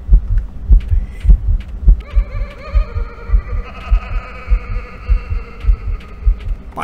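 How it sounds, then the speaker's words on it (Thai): A heartbeat from the horror video game Office Paradox thumps in a steady, loud rhythm of low beats, accompanied by a sustained eerie tonal hum and no speech. "มีเสียงหัวใจเต้นเบาๆด้วยนะครับแบบตึกๆๆๆๆข้างหู"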